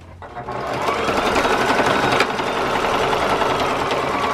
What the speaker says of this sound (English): So now we're at the sewing machine